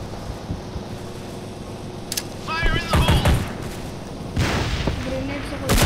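Gunfire from an online FPS shooter game comes as sharp bursts and rapid cracks over a low hum, with a voice speaking between and over the shots.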